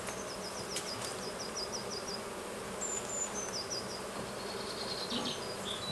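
Honey bees drone steadily at an open hive during an artificial swarm split while frames of brood are moved, with birds chirping lightly in the background.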